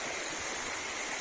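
Steady, continuous rushing of creek water on a rural path leading toward a waterfall, a close, even hiss with no other sounds.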